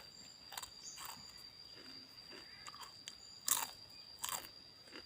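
Crisp bites into deep-fried wontons, with a few sharp crunches spaced apart over quiet chewing, close to the mic and fairly faint.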